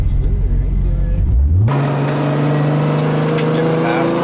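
A 1000-horsepower Toyota Supra accelerates past, its engine note sweeping up to a steady loud drone that carries on after it goes by, with people talking over it at the start.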